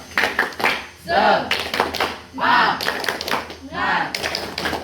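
A classroom of students claps out the rhythmic 'tepuk semangat' spirit clap in quick patterned bursts, mixed with loud chanting voices.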